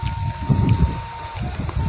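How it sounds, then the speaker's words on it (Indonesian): Wind buffeting a microphone outdoors in a garden, a rough low rumble surging in gusts, close and loud, with a thin steady tone running underneath and no talking. "Angin guys."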